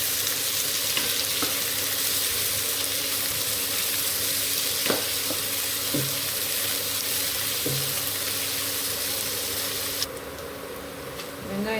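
Onions sautéing in oil in a pan for chicken biryani cooked in a pressure cooker, a steady broadband sizzle running throughout with a few soft stirring knocks, fairly close and even in level.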